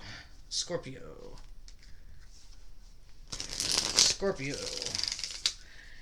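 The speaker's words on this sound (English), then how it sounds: "Last shuffle for Scorpio" Quick riffling tarot card shuffles in two bursts, the second louder and longer, with a voice murmuring between them.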